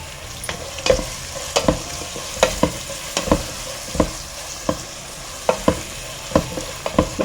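Medium-sized onions, sliced lengthwise, sizzle steadily in a hot pan while a spoon scrapes and stirs them in irregular clacking strokes, close and clear with no talking.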